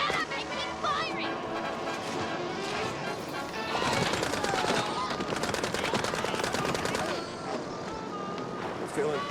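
Bursts of automatic gunfire crackle in the Mouse P.I. video game, loud and dense over several seconds and mixed with voices and other game sounds.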